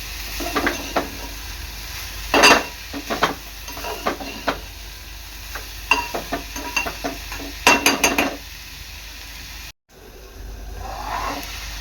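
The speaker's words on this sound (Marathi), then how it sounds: "लो गॅसवर एक पाच मिनिट चांगली भाजी शिजवून घ्यायची आहे" Wild vegetable sabzi made from abai shenga pods is stirred in a pan over low gas, giving scraping spoon strokes in irregular bursts over a soft, steady sizzle, with a brief dropout near the end.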